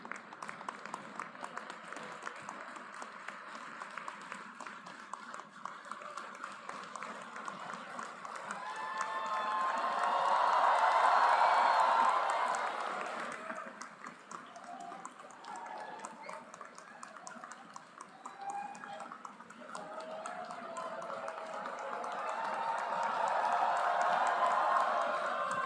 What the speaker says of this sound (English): Huge round of applause for all the BTech graduates.